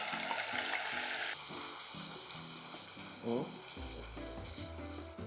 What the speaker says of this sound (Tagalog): now we will add our onion, ginger, and garlic paste. Igisa natin.